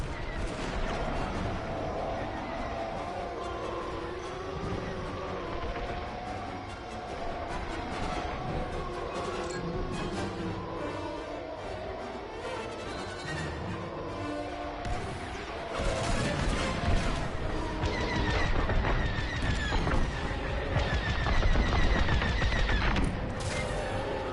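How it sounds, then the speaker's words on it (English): Rapid blaster fire and explosions in a Star Wars Squadrons space dogfight, a dense continuous barrage with engine roar that grows louder and heavier toward the end, with radio voices mixed in. "Taking fire!"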